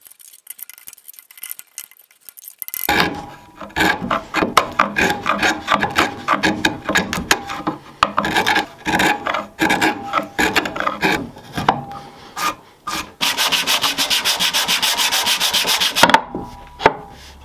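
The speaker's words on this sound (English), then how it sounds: "I use a chisel to remove the excess material and then clean up the mating surfaces before joining" A chisel scrapes and pares wood to clean up joint surfaces for a roller speargun build, with rapid rasping strokes in uneven bursts close by and a dense steady scraping run near the end.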